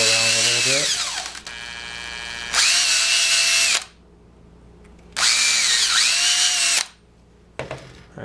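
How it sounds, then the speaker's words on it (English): A power drill widening holes for a homemade wine must mixer and degasser spins up in several strong, close bursts, with quiet gaps and faint handling noise between runs. "wiggle the drill around a little bit."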